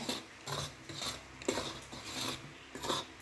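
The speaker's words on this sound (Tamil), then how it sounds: "1/2 கிலோ மாவு லைட்டாக வறுத்துக்குங்க." Rice flour, a half-kilo packet, lightly roasted in a pan and stirred, giving repeated rasping scrapes at a steady rhythm, close and moderately loud with no talking.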